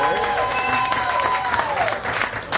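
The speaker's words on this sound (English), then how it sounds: "How about a round of applause for Mr. Dave Bornikowski on drums." A crowd at a polka festival applauds a drummer, dense clapping and cheering layered with sustained band tones and a voice over a public address system.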